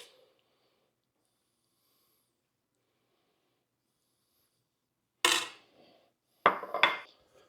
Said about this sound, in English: Let's plate this up.